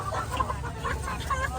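Live chickens clucking at a busy morning fresh market in Vientiane, Laos, a string of close, steady clucks over a low bustling background.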